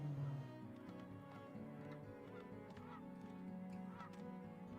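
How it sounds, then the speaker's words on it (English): Goose-like honking calls of seagulls in the colony-building video game Farthest Frontier repeat over a steady game ambience, moderately loud and without talk. "Seagulls, they're so pretty. They sound like geese, though."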